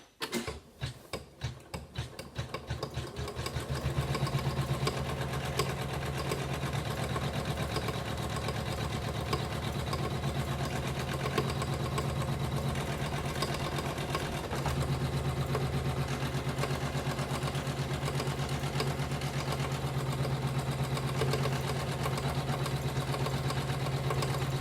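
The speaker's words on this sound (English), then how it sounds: "this should stitch out the basting stitch for this W" Embroidery machine running a basting stitch for an appliqué letter W, starting with separate ticks that speed up into a steady, continuous mechanical whirring and clatter.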